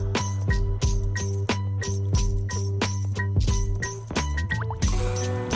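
Madden video game audio from an Xbox stream setup, a steady looping musical bed with regular percussive hits and chiming tones, loud and continuous with no talking.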